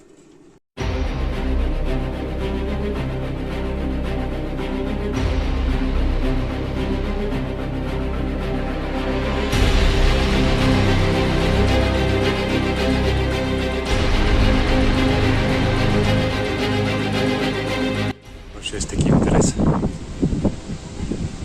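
Loud, steady wind buffeting the microphone outdoors during a windstorm, with gusty rumble and rustling, a voice speaking briefly near the end.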